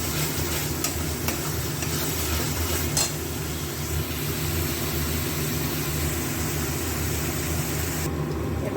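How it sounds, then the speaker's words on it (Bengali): Garlic, ginger and green chilli paste sizzles steadily in a pan while being stirred, the hiss of frying joined by occasional scraping strokes, with no talking. "2 চামচ রসুন আদা কাঁচা লঙ্কা পেস্ট দিয়ে আবার এটাকে একটু নাড়িয়ে চালিয়ে নেবো"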